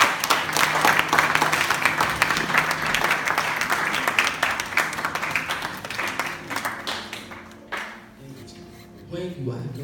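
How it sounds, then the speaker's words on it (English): Church congregation clapping hands together in a loud, dense burst of applause that thins out toward the end, with voices and a sustained tone mixed underneath. "Let's give the Lord a clap of hands."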